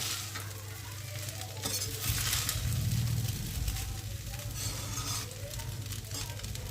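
Prawn pulao stirred in a pan, with a loud, continuous sizzle, scraping spoon strokes and the rough churn of rice being turned over, heard up close.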